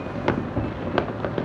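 Christmas-time neighborhood fireworks going off, four or five dull booms and crackles in quick succession over a constant background hiss, moderately distant.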